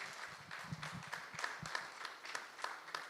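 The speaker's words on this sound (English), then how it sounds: "Can I have a round of applause for Anik Mahanta, everyone?" A small audience at a conference panel session claps faintly and sparsely, with separate claps at uneven intervals sounding quiet and somewhat distant.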